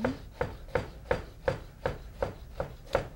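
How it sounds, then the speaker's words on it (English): Knife rough-chopping grilled vegetables tossed in olive oil on a cutting board, a steady series of about nine crisp chops in an even rhythm, close and fairly quiet, with no talking. "I'm just going to rough cut this up."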